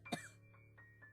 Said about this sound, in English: A coughing racks my body now that I don't feel like choking.